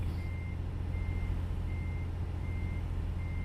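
Truck reversing alarm in American Truck Simulator, a steady series of evenly spaced high electronic beeps over a deep, constant diesel engine rumble, with no voices.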